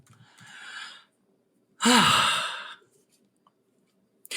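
A sleeping person's heavy breathing, taken as snoring: a soft inhale, a pause, then a louder raspy breath out with a throaty rattle, heard close and alone with no talking.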